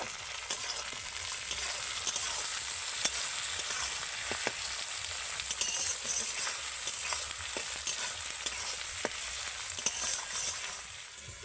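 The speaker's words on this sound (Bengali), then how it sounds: "আবারও আমি ভালো করে কিন্তু এগুলোকে ভেজে নেব" Onion frying in a pan with ginger garlic paste and chopped tomato, a steady moderate sizzle throughout, broken by frequent sharp crackles and pops and occasional stirring.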